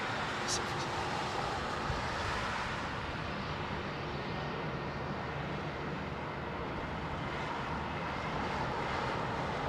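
An airliner departs Heathrow's runway 27R on an intersecting departure: a steady, broad jet roar that holds at an even level for the full length, with no voices heard.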